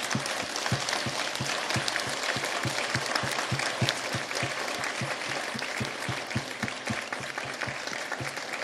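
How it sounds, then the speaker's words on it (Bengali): Audience applause for medal recipients at a Begum Rokeya Day ceremony, standing and clapping hard; a dense, steady wash of many hands that holds loud and even throughout without a pause. "আমরা একটু দাঁড়িয়ে যারা পদক পেলেন তাদের জন্য জোরে একটা তালি দিই"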